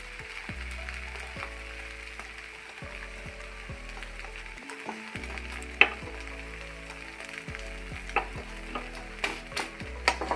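Eggs fry in a pan for an egg roast, a soft, steady sizzle heard up close, with intermittent scraping and light metallic taps from a spatula stirring and turning them.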